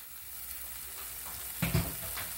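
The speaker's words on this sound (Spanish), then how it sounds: "dejo sofreír un poquito de la sal con el ajito que sofría" Garlic and salt sizzle in olive oil in a frying pan, a steady close hiss with a louder burst of crackling partway through as the food is stirred.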